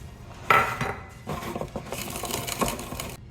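Green chili, ginger and garlic are pounded into a paste in a kitchen, a series of irregular close knocks and metallic clinks from a pestle striking the vessel.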